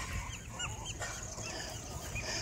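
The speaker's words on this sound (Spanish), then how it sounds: "Esas son las gaviotas que les digo, ¿las ven?" Seagulls call in the distance, a few rising squawks and cries spread over a steady hiss of outdoor background noise.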